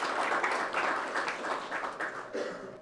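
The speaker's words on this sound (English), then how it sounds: "A big round of applause," Audience applause for a speaker being welcomed at an electric-vehicle after-sales panel event, a steady wash of many hands clapping that carries through the whole stretch at moderate loudness without obvious talk over it.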